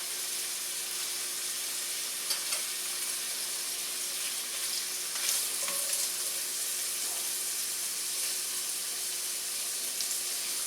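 Lump crab meat being stirred and heated in a pan of hot homemade red sauce, a steady soft sizzle and bubbling with faint utensil scrapes, fairly quiet and alone.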